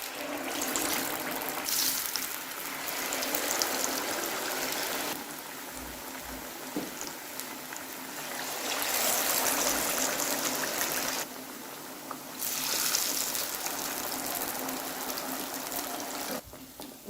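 Masala-coated fish fries in very hot oil, a loud continuous sizzle with hissing surges and brief lulls running for several seconds, with no voices.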